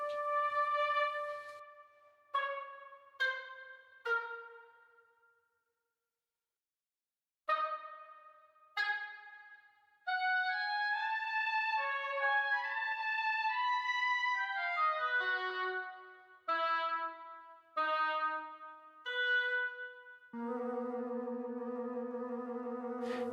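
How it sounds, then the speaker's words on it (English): Oboe and alto flute carry a combat-music loop with short detached figures, a brief pause, then flowing overlapping lines and a held chord at the end, clear and unaccompanied by speech. "The last component of this loop is the oboe and alto flute, which sound like this."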